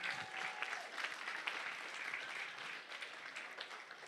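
A charity auction crowd for Big Brothers Big Sisters of Northern Sierra gives a fairly faint round of applause in a room, the clapping uneven and scattered and lasting a few seconds.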